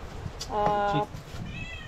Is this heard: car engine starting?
no